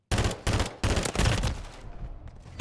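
FR 5.56 burst-fire rifle in Modern Warfare 3, firing four sharp, loud bursts in quick succession, the last trailing off into echoing decay and fainter distant noise.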